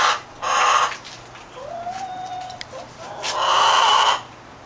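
Chickens cluck and squawk nearby in several loud bursts, with a drawn-out call in between and no talking.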